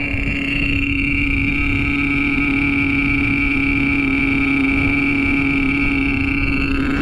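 A Traxxas T-Maxx nitro RC truck with an OS .18TM engine and dual pipes holds a loud, steady, buzzing high idle up close, with a sharp rise in pitch at the very end.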